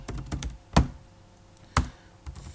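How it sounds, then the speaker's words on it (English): Keys clack on a computer keyboard up close: a quick burst of taps, then two heavier isolated strikes and a few softer presses, no talking. "I'll type it in"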